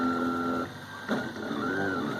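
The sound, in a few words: 3D printer printing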